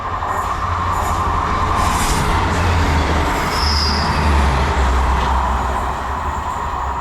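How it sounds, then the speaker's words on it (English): An EMR train rolls through a station on the Hope Valley Line close by with a heavy, continuous rumble, wheels squealing and rattling on the rails throughout. "We have a train passing through as well."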